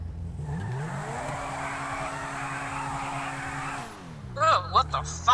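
A GTA 5 car engine hums steadily at a constant pitch, then the revs drop and shift as it slows, with brief sharper mechanical chirps near the end; a voice briefly talks over it.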